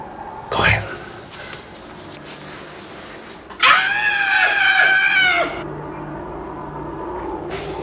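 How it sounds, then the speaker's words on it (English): A woman screams once, a shrill wavering cry held for about two seconds near the middle, following a sharp thump and quiet room noise. "Is that the best scream you could do?"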